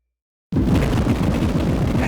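A loud, sustained explosion from the X-Men arcade video game bursts in suddenly after half a second of silence and roars on steadily to the end, with no talk over it.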